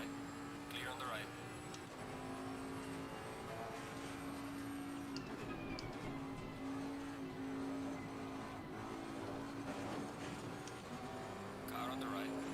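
Race cars in a British racing sim game drive past under a steady engine drone, with faint whooshes of passing cars while a commentator talks over it continuously.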